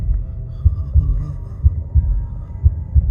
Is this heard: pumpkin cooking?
no